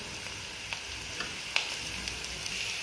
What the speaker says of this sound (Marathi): आता व्यवस्थित परतून घेऊ